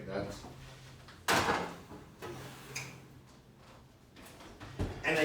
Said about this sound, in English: And you can open the door of your oven to check that.